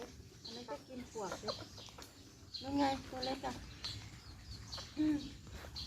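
Bantam chickens feeding on termites outdoors give several short, close clucks and calls in irregular bursts, mixed with people talking nearby.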